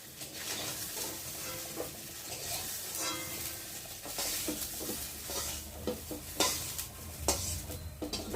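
Soybean chunks fry lightly in a pan of oil, with a steady sizzle and repeated scraping, clinking stirs of a utensil against the pan, close and continuous with no talking.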